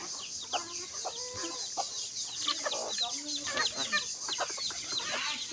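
Chickens cluck busily nearby, many short overlapping calls and squawks in an irregular stream, with a steady high hiss in the background.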